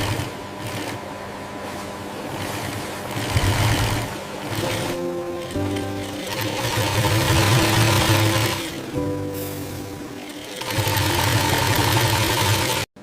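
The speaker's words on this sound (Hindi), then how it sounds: "सिलाई मशीनों पर कपड़े जुड़ने लगते हैं।" Sewing machines in a factory stitch fabric made from recycled plastic, a steady mechanical whirring that swells and eases in bursts over a constant motor hum, close and continuous.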